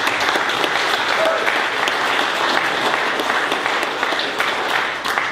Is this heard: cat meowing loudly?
no